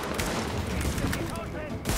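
Rapid gunfire in the video game The Division, dense overlapping shots in a continuous loud volley, with someone talking over the shooting.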